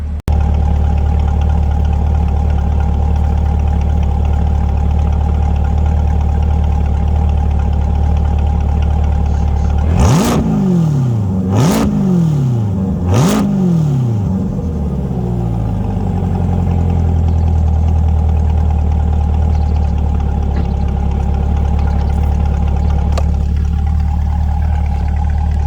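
A 2021 Chevrolet Corvette C8 Stingray exhaust idles with a low steady rumble, then three sharp quick revs roar up and fall back before settling into the idle again.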